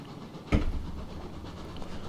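A steam locomotive reversing in the video game Railroads Online gives one heavy clunk followed by a short rumbling hiss, alone over a low steady background.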